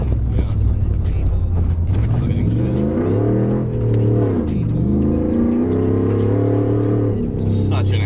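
A modified Ford Raptor pickup's 6.2L V8 engine idles with a deep rumble, then revs up and down in rising, falling sweeps, loud and close, with people talking over it.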